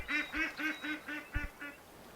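Ducks quacking in a hunting video game, a run of about seven evenly spaced nasal quacks at close range with a soft thud partway through, no talk.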